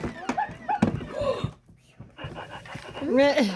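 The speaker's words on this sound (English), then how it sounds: "The dog wants out of the box." A Present Pets toy puppy stirs inside a wrapped gift box, giving off whimpering, panting electronic puppy sounds in short bursts, while children and adults talk and exclaim nearby.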